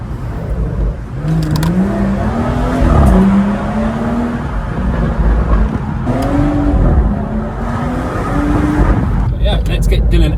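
A BMW M240i with its OPF and resonator deleted revs from inside, engine note climbing and falling in repeated throttle blips, loud and close, with a voice talking over it.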